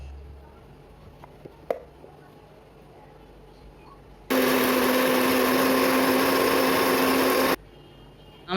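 An electric mixer grinder whirs loudly while blending whole spices into a paste for rajma, a steady high-pitched roar lasting about three seconds after quiet kitchen background, then stopping abruptly.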